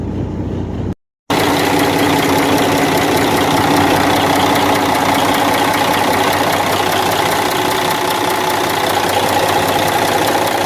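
A turbocharged engine idles right after starting, a loud, steady, even rumble close up that runs on without a break after a short gap at the start, with no talking.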